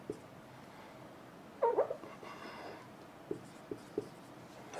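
A marker or chalk scratches across a board during a lecture, with a short burst of strokes and then a few quick taps, soft against a quiet room.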